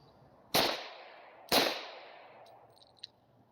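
Two sharp, loud gunshots from a Taurus TH40 pistol about a second apart, each with a decaying echo, then a faint metallic click; no talking.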